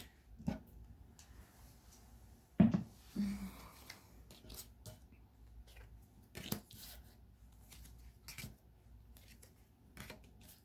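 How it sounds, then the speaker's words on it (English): Tarot cards laid out one by one on a table, soft papery slaps and brief scraping shuffles in a quiet room, a louder pair of card snaps near the middle, with no talking. "just setting out some cards here"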